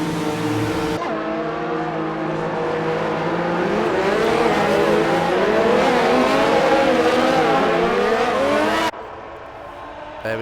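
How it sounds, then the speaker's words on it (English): Racing-game cars stream out of the pits in a Russia round, a dense blend of several engines rising and falling together, loud and continuous before dropping away sharply near the end. "They're all streaming out of the pits."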